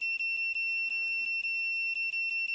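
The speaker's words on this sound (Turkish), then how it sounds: "Tekrar select tuşuna basıyorum ve şu anda bip kademesine geldi." A digital multimeter in continuity (beep) mode gives a steady, clear high-pitched electronic tone with brief dropouts as the probes touch and release, heard alone and close.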